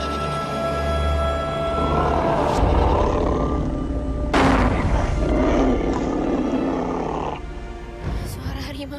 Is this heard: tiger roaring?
yes